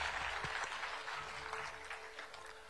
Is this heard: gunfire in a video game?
no